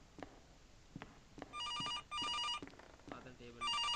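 A phone rings inside a mobile horror video game, sounding as repeated electronic bursts of evenly spaced tones that start and stop in short pulses between sharp clicks and thuds, loud and close, with brief murmurs of voice around them.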